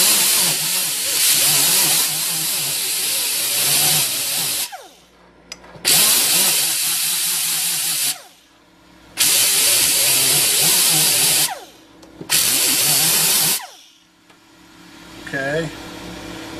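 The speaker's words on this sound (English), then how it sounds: "Now, I use one of these roll-lock discs, but you could, you know, use sandpaper or anything like that." A roll-lock abrasive disc on a power tool grinds a metal heat sink surface in four long, loud hissing bursts, each separated by short pauses as the tool spins down.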